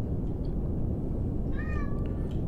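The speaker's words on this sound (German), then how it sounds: "Im Hintergrund hört man meine Katze, die jetzt vom Klo kam und sich so darüber freut, dass sie jetzt erstmal um Aufmerksamkeit buhlt" Domestic cat meowing for attention in a room, a couple of short rising meows faintly in the background under a steady low hum, with no talk.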